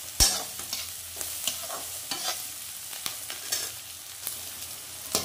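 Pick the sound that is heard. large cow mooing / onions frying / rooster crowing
onions frying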